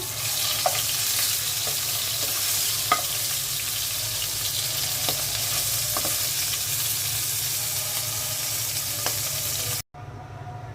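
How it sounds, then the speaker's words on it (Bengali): Three fish deep-frying crisp in hot oil give a loud, steady, dense sizzle with a few faint clicks of a utensil, running unbroken until it cuts off abruptly near the end. "তিনটা মাছ আমি কড়া করে ভেজে নেব"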